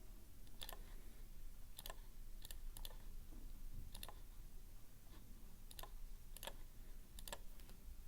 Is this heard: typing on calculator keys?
yes